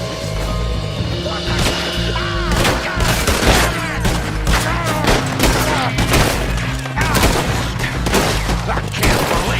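Dense gunfire from a Red Dead Redemption 2 shootout, a loud sustained fusillade of overlapping shots and bursts filling the whole stretch, with shouted voices mixed underneath.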